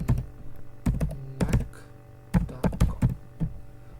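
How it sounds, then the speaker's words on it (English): Close, irregular keystrokes clack on a computer keyboard as a website address is typed, arriving in short bursts of quick taps separated by brief pauses, with no voices. "I will write here google.com, or I will type my website"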